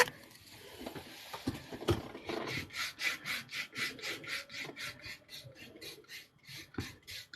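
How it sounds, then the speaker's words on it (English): Wood being sanded by hand: a steady series of rhythmic rasping strokes, close and fairly quiet, repeating evenly with no talk. "Sounds like you're sanding down some wood."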